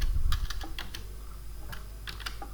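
Program code typed on a computer keyboard, a quick run of close, crisp keystrokes with brief pauses, fairly quiet and without speech.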